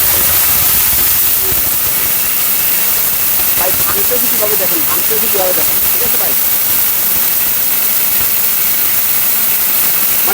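A powerful blender grinds chickpeas with a loud, steady whirring roar that lasts the whole time, while someone talks over it.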